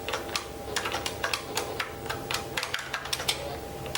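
Keys on a Sega TeraDrive keyboard clack in quick, irregular bursts during play of a shooter game, each press a sharp close tick over a low background hum.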